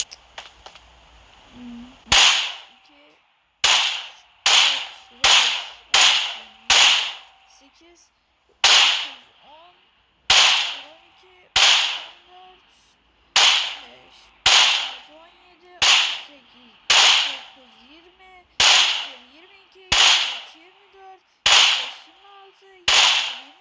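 A Groza rifle fires on a car in a video game, loud sharp shots spaced about a second apart, sometimes in quick pairs, each followed by a brief ringing decay, repeating over more than twenty seconds.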